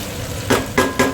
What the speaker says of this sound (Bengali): মাংসটা কষানো হয়ে এসেছে, সুন্দরভাবে একটু লেগে লেগে যাচ্ছে, তেল ছেড়ে দিয়েছে